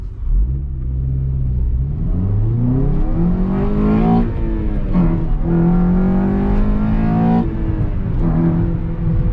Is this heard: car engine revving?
yes